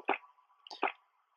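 Two short, wet gulps of a survivor drinking water in the video game Last Day on Earth, close and isolated, spaced under a second apart, with near silence between them.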